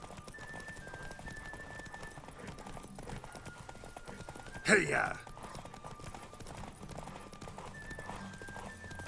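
A horse in The Witcher 3 gallops with steady clip-clop hoofbeats under a rider's shouted urging, set against faint game music and a brief loud burst midway.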